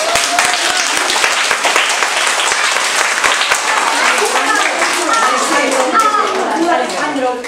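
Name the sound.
children's audience giving loud applause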